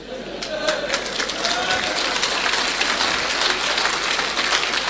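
Audience applause at a motivational business seminar, a dense, steady patter of many hands clapping that holds for the whole stretch with no talk over it.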